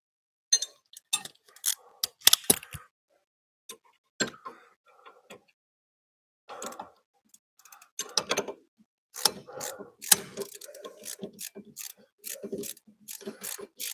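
A hand-turned socket ratchet clicks in short irregular runs of sharp ticks while working on MR6 suspension re-assembly, close and crisp with quiet pauses between bursts.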